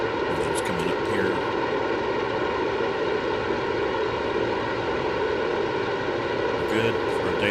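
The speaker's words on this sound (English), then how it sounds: "Engine's coming up here." A Grumman Albatross engine spools up in Microsoft Flight Simulator 2024, a steady droning aircraft engine hum with layered tones throughout, with someone talking over it.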